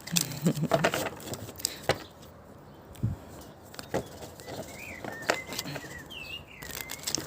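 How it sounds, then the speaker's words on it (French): Small birds chirp faintly in the distance, brief high twitters over soft patter and rustling nearby. "on a le bruit des petits oiseaux"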